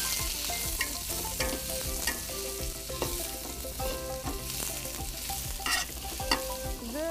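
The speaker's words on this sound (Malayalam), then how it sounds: "ഉള്ളിയൊക്കെ ഇട്ടിട്ട് തക്കാളിയൊക്കെ ഇട്ടിട്ട് ആദ്യം ഇവിടെ ഒക്കെ അരിഞ്ഞു ഓയില് ചൂടായ" Onions and tomatoes fry in hot oil while being stirred in a Malabar kitchen, a steady close sizzle broken by repeated scraping and clinking of the spoon against the pan.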